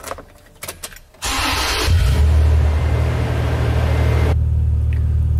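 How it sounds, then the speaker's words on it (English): A Toyota Tacoma pickup engine turns over and settles into a steady, loud idle-rumble while the truck sits in drive, a continuous low hum with no talking. "I'm gonna turn on the truck and put it in drive"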